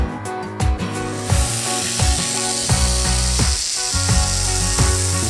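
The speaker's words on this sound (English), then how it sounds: "steak straight in." Steak searing in a hot pan gives a loud, continuous close-up sizzle with a bright hiss, while a steady musical bed plays underneath and no one speaks.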